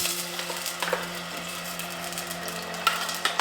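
A paste of ground green chili, onion, tomato and ginger fries in hot oil for an aloo matar curry, giving a steady soft sizzle with occasional stirring scrapes and clicks.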